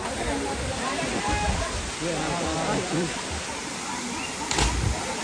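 Water from a dam spillway at Kedariya Mahadev temple pours down as a steady, loud broadband roar, with voices talking over it and a brief burst near the end.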